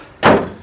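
Mercedes G500 hood slammed shut, a single sharp, heavy metallic thud close by, briefly decaying.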